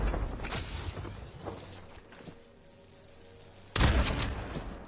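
Call of Duty Mobile gunfire, a few close shots and mechanical clicks early on, then a quieter gap and a sudden loud burst near the end.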